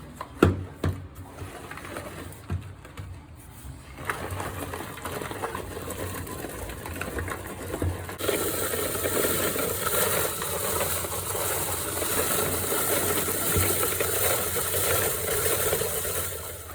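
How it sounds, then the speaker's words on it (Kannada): Electric chopper processing finely cut green chillies, a motor starting with clatter, then a steady whirring buzz running continuously for several seconds, close and moderately loud. "ಚಾಪರಲ್ಲಿ ಹಾಕ್ಕೊಂಡು ಅದನ್ನು ಸಣ್ಣಗೆ ಮಾಡ್ಕೋಬೇಕು."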